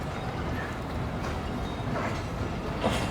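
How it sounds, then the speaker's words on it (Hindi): Steady broadband rumble of the Jaffer Express departing Jacobabad station in Pakistan, with faint rhythmic clatter of wheels over rail joints throughout. "तो RG 25115 के साथ 146 डाउन सक्कर एक्सप्रेस निकल रही है"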